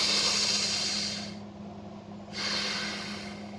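Alternate nostril breathing in Ida and Pingala breathwork: a long hissing inhale through one nostril, a short pause, then another airy breath through the nose, close and alone with no talk.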